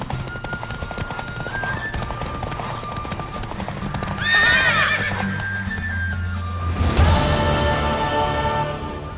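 Rhythmic hoofbeats of a galloping horse in the video game The Witcher 3: Wild Hunt, then a loud, shrill whinny rises midway, followed by another neigh as the hooves keep pounding.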